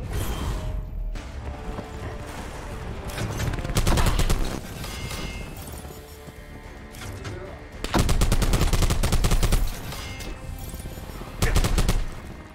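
Heavy gunfire in Call of Duty: Black Ops 4, loud bursts of rapid shots that come in several dense clusters with brief lulls between them, alongside mechanical weapon clatter.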